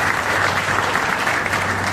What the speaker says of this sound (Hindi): अनिल जी और नवोज जी के लिए जोरदार ताली बजे